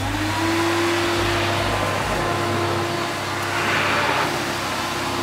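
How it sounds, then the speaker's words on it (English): Carpet steam cleaner machine with a powerful motor running steadily, a loud continuous whirring roar with a constant hum and no talking. "we go over it with this powerful motor, which puts a second chemical into the carpet"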